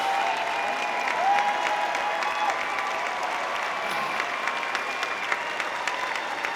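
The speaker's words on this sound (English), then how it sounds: "Graduates, please give them a round of applause." Graduates at a business school spring commencement applaud their families, a loud, dense, continuous roar of clapping from a large crowd filling a big venue.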